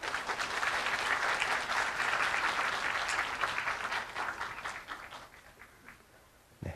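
Loud, sustained audience applause fills a graduation ceremony hall as guests are welcomed, steady clapping that gradually thins and fades toward the end.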